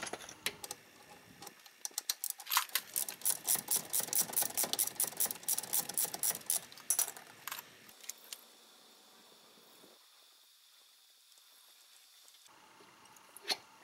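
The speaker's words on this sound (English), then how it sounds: "To do that, I'm going to use a 17mm socket wrench." A 17mm socket wrench loosens the bottom caliper bolt during a front brake pad job, giving a rapid run of sharp metallic ratchet clicks in bursts for several seconds, then fading to quiet handling noises.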